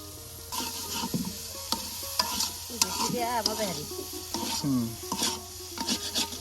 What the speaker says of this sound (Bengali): এই যে আপনার মাংস ভাজা হয়ে গেল